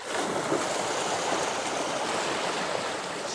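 Water from a hillside water supply chamber gushing out in a powerful, steady rush, a loud broadband roar that holds constant throughout without pause.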